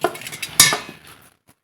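A spoon scrapes and clinks against a bowl while laddu dough of flour, sesame and cardamom is mixed, with several short knocks and one sharper clatter, then quiet.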